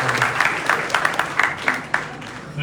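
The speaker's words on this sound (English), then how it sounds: "Can we give another bigger round of applause to the Crusaders for Peace?" A crowd at an official event presenting provisional national population and housing census results gives a round of applause, scattered claps rising in short bursts while a voice talks over them.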